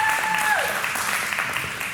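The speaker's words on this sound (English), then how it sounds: "some people are applauding for that" Steady applause from an audience at a talk on love and Torah, a continuous wash of clapping heard fairly loud throughout, with a brief whistling tone at the start.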